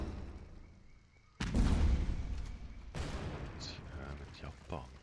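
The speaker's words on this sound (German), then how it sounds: "Also, wir machen jetzt mal einmal Explosion." An explosion effect from the KARDS World War II card game bursts in loudly and booms, followed by a second blast and rumbling debris, with a voice talking in the background.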